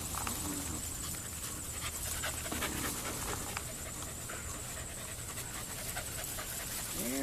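A bulldog pants steadily at close range, quick rhythmic breaths continuing throughout over a busy outdoor background with faint scuffling.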